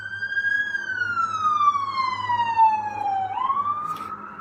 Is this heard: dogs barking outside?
no